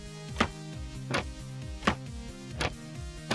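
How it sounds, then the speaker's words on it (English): Minecraft 1.9 trapdoors opening and closing in a video game, giving five or so short knocking clicks at irregular intervals, heard alone over soft background music. "There are new sounds for opening and closing trapdoors."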